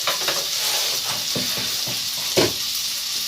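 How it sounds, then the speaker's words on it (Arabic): Onion and garlic sauté in butter in a pan, giving a constant close sizzle with a few soft stirring knocks on top. "راح نحط بها أول شيء البصل والثوم ونحمسهم بهاي الزبدة"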